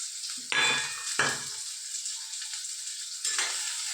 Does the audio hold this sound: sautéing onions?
yes